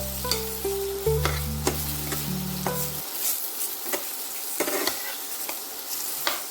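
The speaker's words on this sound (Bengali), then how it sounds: "ঝিঙেটাকেও হালকা করে নাড়বো" Ridge gourd being stirred in a frying pan, steady oil sizzle with scraping spoon strokes, close and clear, while a low tonal hum sounds briefly at the start.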